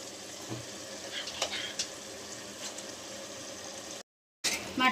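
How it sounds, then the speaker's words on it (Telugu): Mutton tipped into a pan of cooked onion-tomato masala fries with a steady sizzle, with occasional stirring scrapes close by. A brief dropout of silence comes near the end before the sizzle returns. "తర్వాత ఇందులో నేను మటన్ వేస్తున్నాను."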